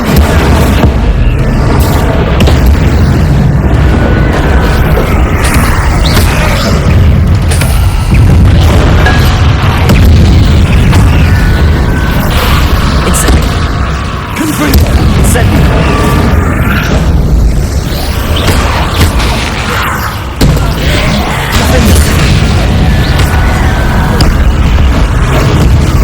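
A fire spell cast during Hogwarts Legacy gameplay, heard as a continuous loud roar of booming blasts and crackling bursts that fill the whole stretch with dense, explosive game effects.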